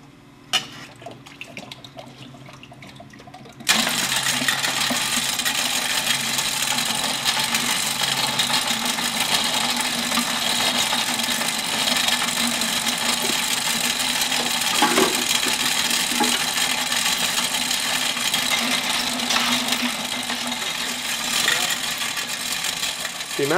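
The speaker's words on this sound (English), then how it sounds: "best results are obtained when the resin and hardener are blended in the mixer before adding the powder" Mechanical mixer blending Furnane resin, hardener and powder for a floor system, a steady broadband churning whir starting abruptly and running continuously, fairly loud and close, with a faint voice at the start.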